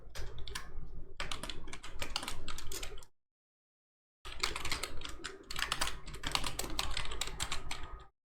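Rapid bursts of computer keyboard typing with sharp key clicks and Tab key presses while formatting a question paper in MS Word, split by a short silent pause, close and crisp.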